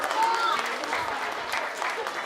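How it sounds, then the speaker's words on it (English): A crowd claps steadily and fairly loudly throughout, a continuous wash of applause with a few faint voices mixed in. "Big round of applause."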